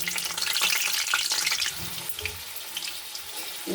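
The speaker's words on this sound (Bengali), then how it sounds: "সবজি ভাজার জন্যে আমি কড়াই একটু তেল দিয়ে দিলাম" Steady hiss of papaya frying in hot white oil in a wok, with a louder watery crackle at first that settles into a softer sizzle.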